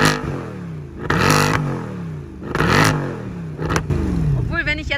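Mercedes C63 V8 revving loudly behind the car in a series of sharp blips that rise and fall, with a brief crackle at the end.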